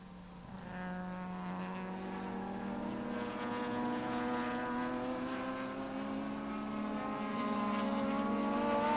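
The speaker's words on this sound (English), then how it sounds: "It's Mazda, then V8, then V8, then Mazda rotary once again, then a turbocharged 4" Race cars roar past at Phillip Island during a 2004 IPRA Matthew Flinders Plate race, a Mazda rotary such as an RX-7, V8s and a turbocharged four-cylinder among them. Loud, continuous rising engine drone holds through the whole stretch with no talk.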